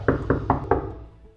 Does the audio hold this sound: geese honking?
no